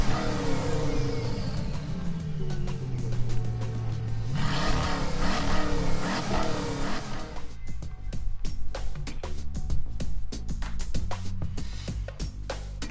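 A Bugatti Veyron's engine in Gran Turismo revs up and down in a rising and falling sweep, then settles into a steady, busy mechanical drone.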